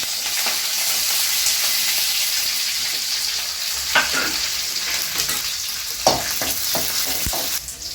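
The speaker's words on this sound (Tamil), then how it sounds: "வெங்காயம் மிளகாய் போட்டு தாளிச்சுக்கலாங்க." Onion and chili sizzle loudly in hot oil while tempering for goat curry, a constant frying hiss with occasional scraping stirs of a spoon in the pan.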